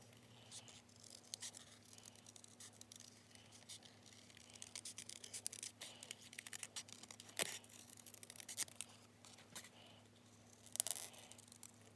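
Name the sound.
scissors fussy cutting out a paper image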